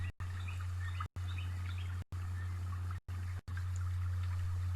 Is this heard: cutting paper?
no